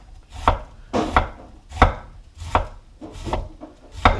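A knife thinly slices a vegetable on a cutting board for egg rolls, making about seven crisp, evenly spaced chops close by with no talking.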